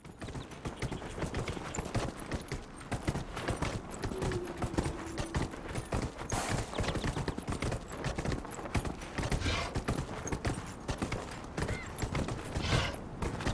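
Hooves of a horse mount clip-clop steadily across open land in the fantasy video game Dragon Age: Inquisition, a fairly quiet continuous trotting rhythm with faint game ambience and creaks around it.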